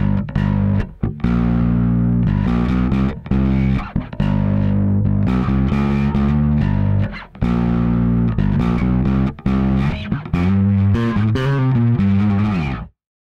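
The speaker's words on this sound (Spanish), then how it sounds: "Vamos a poner full distorsión." Bass guitar played through a Darkglass Vintage Microtubes pedal set to full distortion mode, a loud, thick, fuzzy growl of sustained notes and short riffs that stops abruptly at the end.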